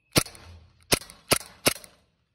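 An Elite Force Glock 18c airsoft pistol fires BBs toward the ground: four sharp, snappy shots spaced irregularly, close and fairly crisp.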